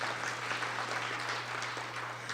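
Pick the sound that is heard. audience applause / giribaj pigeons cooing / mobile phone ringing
audience applause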